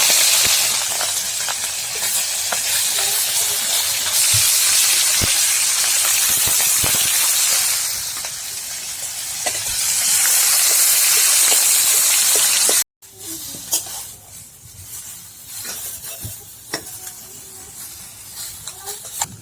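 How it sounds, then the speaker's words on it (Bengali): Small tengra fish frying in hot oil give a loud, dense sizzling hiss that dips for a moment and swells again, then cuts to a quieter stretch of faint crackling. "তেলটা গরম হয়ে গেছে, এখন টেংরা মাছগুলো ভেজে নেব"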